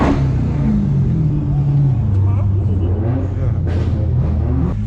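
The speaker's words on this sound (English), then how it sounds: "We're driving the SRT Hellcat Durango, and we kept up pretty good with the supercars." Dodge SRT Hellcat Durango engine on the move on a highway alongside supercars, a deep, close drone that climbs in pitch as it revs.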